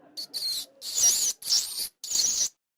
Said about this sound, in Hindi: चूहों की आवाज है क्या?